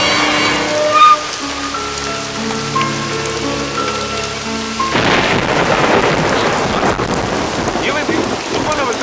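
A heavy rainstorm pours down with a continuous loud hiss of rain over low rumbling thunder that swells midway, steady and close throughout, with no talk.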